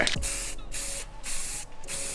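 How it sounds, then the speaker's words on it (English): Filler primer hisses from a spray can or gun in a spray booth, close and loud, in several sustained bursts separated by short pauses. "I'm gonna go ahead and spray this one down with the filler primer"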